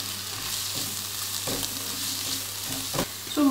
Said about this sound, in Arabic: غادي نضيف فيها الكفته تقريبا واحد 400 غرام ديال الكفته، وغادي نفرزها في المقلة